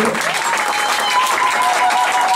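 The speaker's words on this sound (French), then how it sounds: "Nous allons acclamer très fort pour la gloire de Dieu." A church congregation at a Sunday praise service applauds and cheers loudly, with continuous dense clapping and crowd noise filling the space for the whole stretch.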